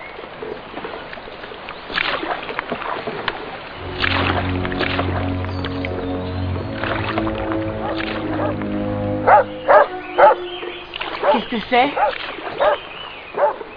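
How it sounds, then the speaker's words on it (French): A dog barks in a few short, sharp bursts in a horror film scene near a boat on the water, heard under French conversation with a low rumble running in the background. "Pourquoi il aboie? Qu'est-ce qu'il a?"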